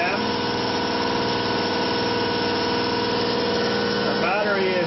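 A ReGenX prototype generator runs at 790 RPM with a loud, steady motor drone and a faint high whine. A brief shifting tone near the end hints at a change in speed.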